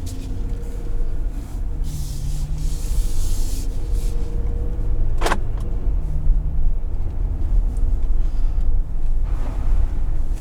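Steady cabin rumble and tire hiss from a 2021 Jeep Wrangler Rubicon automatic on the road, a continuous low drone with one brief sharp click midway.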